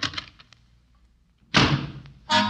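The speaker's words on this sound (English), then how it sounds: "With that, he bangs the door and leaves." A door slams shut in an old Damon Runyon Theatre radio drama: faint footsteps, a pause, then one loud close bang followed by a second heavy thump.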